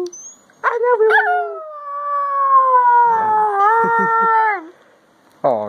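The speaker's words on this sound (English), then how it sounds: "You're an adorable little puppy dog." A fluffy puppy dog lets out a long, loud, wavering howl that rises and holds for several seconds, trailing off before a brief yip at the end.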